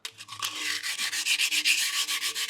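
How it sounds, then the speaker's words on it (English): Close, rhythmic scratching of sandpaper lightly worked across a wooden capstan, the strokes coming in a steady rapid back-and-forth pattern with no voices. "take some sandpaper and just kind of lightly hit this"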